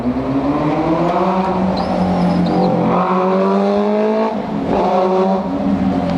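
Cars pass close by on a road next to an outdoor workbench, with a loud steady engine and tire roar whose pitch sweeps as vehicles go by. A second passing surge follows midway.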